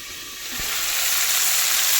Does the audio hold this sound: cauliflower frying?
yes